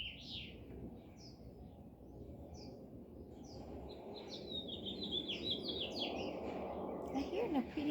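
Pet birds chirp and twitter in short high bursts indoors, faint and fairly close, over a low room rumble with a person's voice murmuring underneath.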